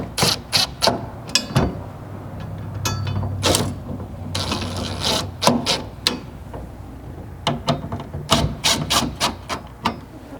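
Bolts being started on a MOLLE panel assembly with rail at the front of a Nissan Frontier truck bed, heard as a dense run of close metallic clicks, ratcheting bursts and clanks with short pauses between, and no talk.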